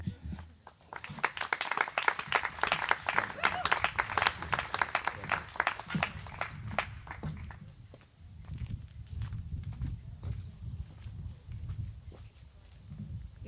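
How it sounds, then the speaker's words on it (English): Applause for graduating eighth graders at a school recognition ceremony, brisk clapping that is fairly loud at first, then thins and fades as voices rise beneath the last scattered claps. "One more round of applause to our 8th graders."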